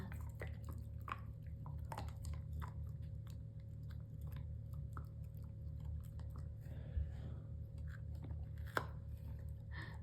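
A child chews a snack close by, with faint, soft crunching bites and smacking repeating irregularly over a quiet low hum.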